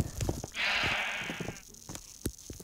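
A rainbow sheep in a Minecraft lucky blocks game gives a single drawn-out bleat lasting about a second, fairly loud and close, among light clicking game sounds and no talking.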